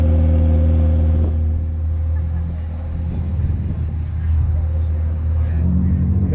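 A wrapped Lamborghini Huracan at a Gold Rush Rally gathering in Dallas idles and revs with a deep, rumbling engine note, while people talk nearby over the steady exhaust.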